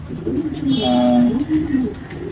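An award-winning racing pigeon in Pondicherry coos loudly and close, a few rolling low coos with a short pause between them.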